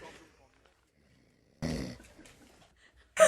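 Someone snoring, one faint rasping snore at the start, then a longer, louder snorting breath in the middle and a sharp loud burst at the end, separated by near silence.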